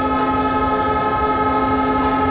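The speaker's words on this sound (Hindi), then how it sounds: "पहले हॉर्न बजा देते हैं हम लोग।" A locomotive horn sounds inside the cab of the Cholan Express, a loud, sustained, steady tone with layered harmonics that fills the whole moment, close and unbroken, with no speech.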